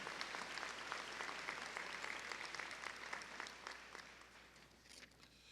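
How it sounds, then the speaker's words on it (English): Audience applause at a fall afternoon college commencement ceremony, honoring board members: steady, dense clapping from a large crowd, moderately distant and fading slightly toward the end. "Let's give them a round of applause"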